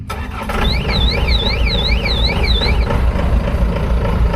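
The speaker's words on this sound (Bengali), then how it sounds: "দাদা হারভেস্টারটাকে স্টার্ট দিচ্ছে" A combine harvester at a showroom in Cooch Behar starts up. A warbling warning tone sounds for a couple of seconds as the engine catches, then a steady, loud, close diesel rumble idles alone.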